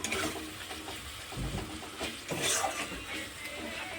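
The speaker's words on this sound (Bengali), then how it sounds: "মশলাটা ভালো করে কষিয়ে নেব" Spice masala for ghugni stirred and fried in a pan with a little water, a steady sizzle with scraping strokes of a spoon against the pan, close and fairly quiet, without talk.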